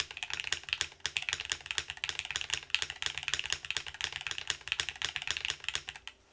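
Rapid, dense clacking of mechanical keyboard keys, steady and close, continuing without pause and with no voices.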